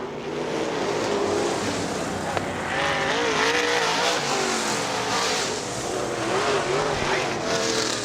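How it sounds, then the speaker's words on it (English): Late model race cars roaring around Butler Motor Speedway, engines droning and wavering as they pass, with tire noise as one spins out amid the steady loud din of the field. "Watch him out of 4. And Terry Shrove spins out."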